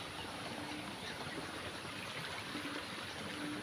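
Floodwater from a swollen river after Typhoon Enteng rushes in a continuous, faint, distant wash with no breaks and no voices.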